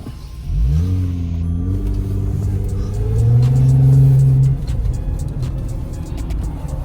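Jeep JKU with a 3.6L engine and Dynomax Ultra Flo cat-back exhaust pulling away around town, the low exhaust drone rising through a gear and swelling louder before settling back into a steady rumble.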